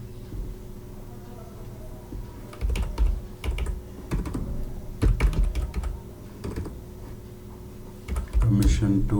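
Keys clatter on a computer keyboard while entering a formula in Power BI, irregular clusters of close, crisp taps with short pauses in between, and a voice occasionally heard alongside.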